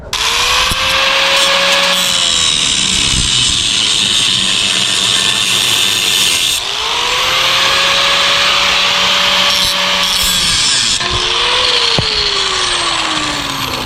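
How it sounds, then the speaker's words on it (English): A power cutter slices through a stuck exhaust pipe on a lowered Nissan D21 Hardbody, its loud whine rising and falling over three cutting passes, grinding steadily with brief pauses between. "He's gonna cut it with a cutter."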